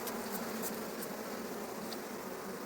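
Honey bees buzzing around a hive frame during honey harvesting in Kharkiv region, a dense, continuous hum that stays steady and close throughout with no talk.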